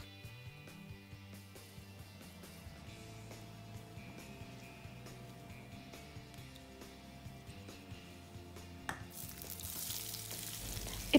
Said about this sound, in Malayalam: ഇപ്പം എണ്ണ നന്നായിട്ട് ഫ്ലേവർ ആയിട്ടുണ്ട്, ഈ ഹോൾ സ്പൈസസിൻ്റെ എല്ലാം.